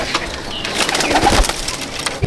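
Pigeons in a pigeon loft, close and fairly loud, with brief soft cooing and rustling along with wooden knocks and scrapes over a short stretch.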